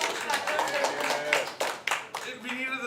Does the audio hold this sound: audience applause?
yes